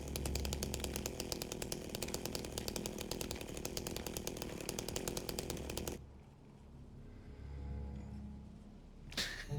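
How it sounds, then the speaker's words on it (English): A revving chainsaw wielded by a charging enemy in a horror video game roars continuously and loudly for about six seconds, then cuts out, leaving a low rumble before a brief sharp burst at the end. "This fucking thing runs at you with a chainsaw."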